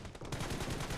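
Short burst of gunfire in the mobile game PUBG, played on a Motorola Edge Plus phone; quiet, rapid repeated shots lasting about a second, with no speech.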